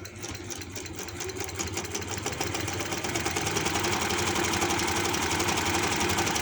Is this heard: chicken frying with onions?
no